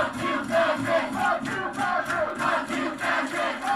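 A heated protest crowd outside UC Berkeley yells and chants in rhythmic surges, many voices shouting together at moderate distance, rising and falling in repeated bursts.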